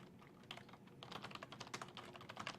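Rapid keyboard typing, likely code being entered while programming in Visual Studio 2013, with quiet sparse keystrokes at first, then a dense, close run of clacking keys throughout, no voices.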